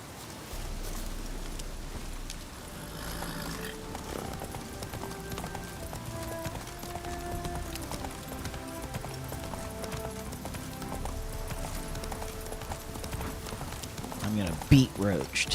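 Geralt's horse Roach galloping across terrain in The Witcher 3, rhythmic hoof clip-clops under game music, steady and mid-distance, with a brief louder clatter near the end.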